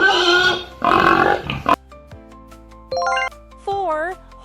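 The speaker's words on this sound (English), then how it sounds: "Pigs say oink, oink." A pig gives a couple of close, rough grunting oinks, followed by light tinkling musical notes and short chimes, in a children's farm-animal counting song.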